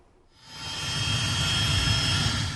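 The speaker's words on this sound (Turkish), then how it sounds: "64 yaşındaki kadın ambulans uçakla İstanbul'a getirildi" An air ambulance plane carrying a patient to Istanbul, its jet engines building into a steady, loud roar with a whining high tone over a broad rumble, heard alone without talk.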